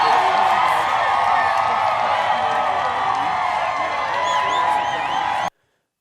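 A large lacrosse crowd at the World Lacrosse Championships roars steadily for Team Uganda, with loud sustained cheering, whoops and clapping that cut off abruptly at the end.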